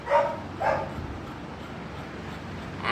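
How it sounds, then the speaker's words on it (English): A Labrador barks twice in quick succession, muffled and distant from another room, then quiet background hum. "And Leo is barking from the other room."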